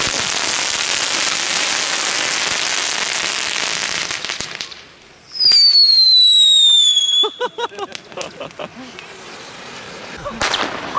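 Loud, crackling bursts of New Year's Eve firecrackers, then a piercing whistle sweeping downward, followed by a rapid string of sharp pops and a final bang.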